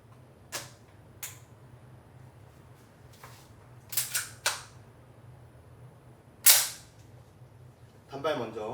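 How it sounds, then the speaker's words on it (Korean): A VFC MPX airsoft gun test-fired semi-auto, with several sharp, close single shots at uneven intervals, one very loud, followed by a brief mechanical rattle. "자, 시험 사격 해보겠습니다."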